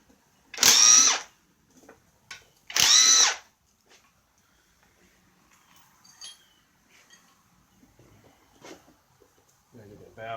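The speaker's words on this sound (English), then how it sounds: "Taking off bolts indiscriminately." An impact driver or power drill zips out car engine bolts in two short, loud whirring bursts, followed by quieter clinks and handling noises in an otherwise still garage.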